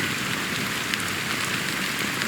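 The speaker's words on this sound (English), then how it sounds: "how long has this rain been going on for?" Steady rain falls in Honkai: Star Rail, a dense, even hiss of drops spattering on surfaces with a few louder droplets standing out, and no voices over it.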